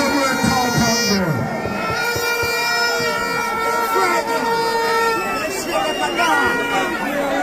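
A large outdoor crowd of political supporters from South Trelawny, Jamaica, rally for a candidate, with a dense babble of many voices and shouting under a loud continuous vehicle horn and other tonal noise, steady throughout.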